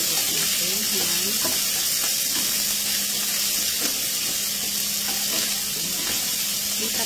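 Red fried rice sizzles steadily in a hot pan while beaten egg is stirred through it, with soft scraping strokes repeating over a constant frying hiss.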